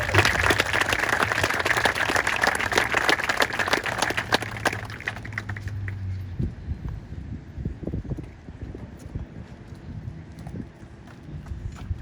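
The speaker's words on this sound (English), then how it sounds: "One last round of applause for Mrs. Delaney's class." Applause for a graduating fifth-grade class at a 2021 outdoor ceremony, dense clapping for about six seconds that thins into scattered claps amid wind noise.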